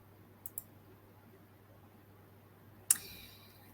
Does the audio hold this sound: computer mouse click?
yes